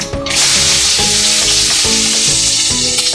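Onions and cumin hitting hot oil, bursting into a loud, close, continuous sizzle after a brief quiet start, with a repeating pattern of pitched clinking and stirring sounds throughout.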